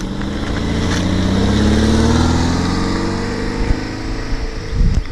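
A 2003 Toyota MR2 Spyder pulls away, its engine loud and close with a steadily rising tone as it accelerates, then easing off with a few bumps and knocks near the end.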